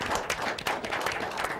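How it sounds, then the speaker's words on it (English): An audience in a live show claps for Tino Maiola, a brief, dense burst of applause from a crowd, fairly close and steady throughout. "Can I have Tino Maiola come up here for 1 second and give him a round of applause?"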